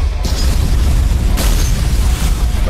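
Explosion in the Team Fortress 2 video game, a loud booming blast with a second burst partway through, heavy low rumble throughout and no talking.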